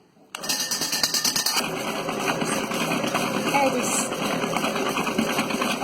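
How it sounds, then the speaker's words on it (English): An electric mixer whisks five egg whites toward stiff peaks, a loud steady whirring motor hum with a rattling beat that starts abruptly and runs continuously, close by. "We want to whisk that up to a stiff peak"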